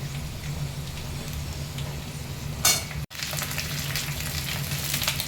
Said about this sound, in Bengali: এবার ডাঁটাগুলো ভাজতে দিচ্ছি।